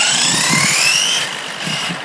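An Arrma 3S BLX radio-controlled car fitted with a 3D-printed spur gear runs steadily at high pitch, a loud electric motor whine with gear noise that drops slightly partway through, heard alone.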